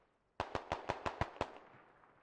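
Distant gunfire in a video game: a quick burst of about seven sharp shots in even rhythm, followed by a fading echo tail.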